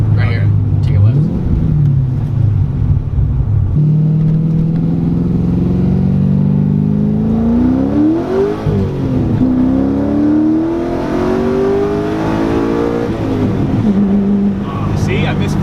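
A Corvette C6 Z06 with upgraded heads and cam accelerates hard. Its loud, close engine note climbs and falls through gear changes, under a passenger's conversation.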